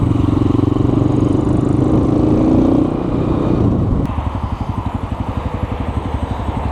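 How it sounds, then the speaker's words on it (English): A Honda Grom motorcycle engine runs steadily close by, loud and continuous, then settles into a slower rhythmic idle putter partway through, with no talk. "The bike fires right up."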